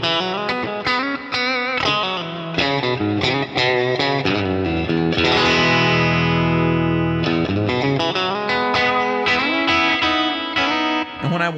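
A Telecaster electric guitar played on the bridge pickup through an old Deluxe Reverb amp rings out in loud, bright picked notes and chords, with a long sustained chord in the middle; no talking.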